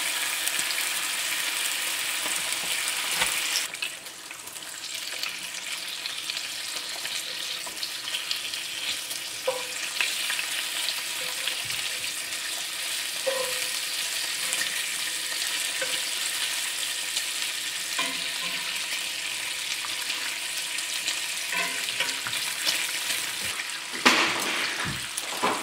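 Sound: bacon sizzling while frying

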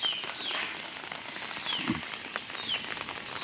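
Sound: rain drops falling on an umbrella

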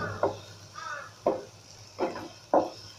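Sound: sautéing onion masala for prawn do pyaza in a pan

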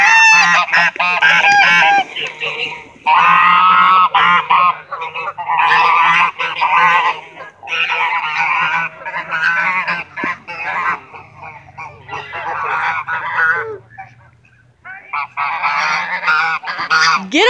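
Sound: birds honking at a duck park

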